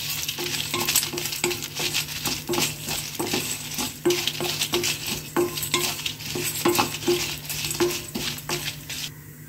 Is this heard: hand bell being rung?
no